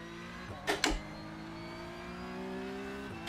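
A V8 Supercar engine hums in the iRacing sim on the Adelaide Street Circuit. The tone is quiet, steady and pitched, with a short louder burst early on.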